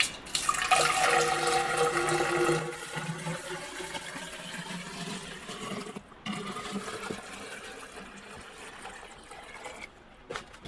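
Water poured into an epoxy aquarium guitar body as a leak test, a continuous splashing, trickling pour that eases off, with a brief pause partway through.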